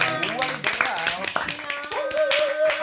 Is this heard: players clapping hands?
yes